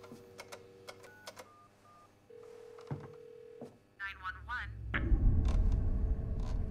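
Telephone dialing in the horror game The Quarry: a run of short key beeps and tones from a phone, followed by a dead line, with game ambience swelling at the end.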